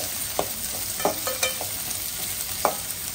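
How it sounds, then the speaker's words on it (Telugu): Finely chopped onions fry in a pan, a constant sizzle broken by several sharp spatula scrapes and taps, close and fairly loud with no talking. "బరీగా సన్నగా చాప్ చేసుకొని ఇలా ఫ్రై చేసుకోవాలండి"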